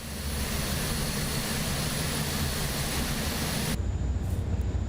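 Airbus A400M turboprop engines running during engine start in Microsoft Flight Simulator 2024, a dense, loud propeller-and-turbine roar with a thin high whine that cuts out abruptly near the end, leaving a lower steady drone.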